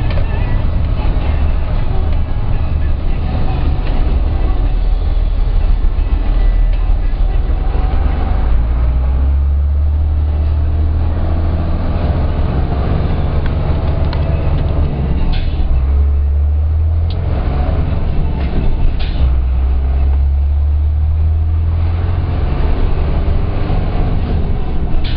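Inside the cab of a DAF truck, a low engine drone and steady road rumble carry on throughout, with the pitch dipping and rising as the truck changes speed.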